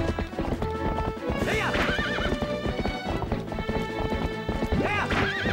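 Hooves clip-clop in a steady galloping rhythm while a horse neighs loudly twice in Zelda: Twilight Princess, with whinnies rising above the hoofbeats, alongside background music.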